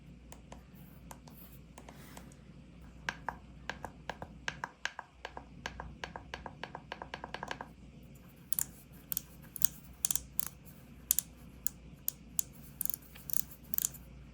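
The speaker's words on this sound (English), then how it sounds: "Here's a quick sound test of the volume knob and these 2 buttons." Rapid series of small mechanical clicks from an ATK Yogo 75 Pro low-profile keyboard, dense and ratcheting at first as the volume knob turns, then sparser, sharper button presses; close and quiet, no voices.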